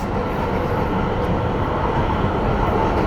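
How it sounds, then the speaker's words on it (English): An MBTA Green Line train zips along its track through woods near Newton, a loud, steady rumble and roar of wheels and car body heard from inside, with no pauses. "the train is just zipping right through it"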